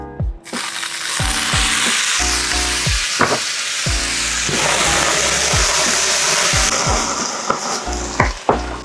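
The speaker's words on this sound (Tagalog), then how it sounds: "I-deglaze natin siya with the soju." Steady loud sizzling as soju hits a hot pan to deglaze it while cooking Korean-Filipino tortang talong with pinakbet, with repeated scraping and clanking of a utensil against the pan throughout.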